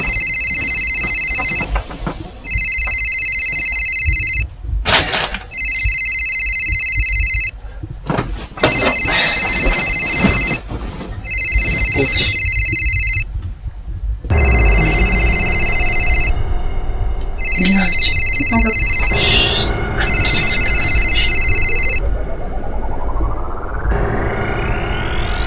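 A telephone rings in repeated evenly spaced bursts of bright electronic tone, fairly loud and close, with some background noise and movement between the rings.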